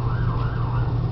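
A distant emergency siren wails faintly over a steady low rumble of traffic or engine hum, with no talking.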